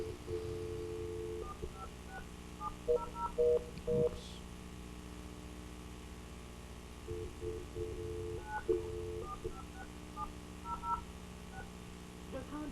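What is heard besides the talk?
telephone dialing tones for a conference call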